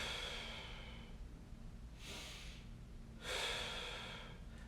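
Deep breathing during a thread-the-needle mobility stretch: two long, breathy inhale-exhale sounds, close and quiet, the second a bit stronger, with no talk.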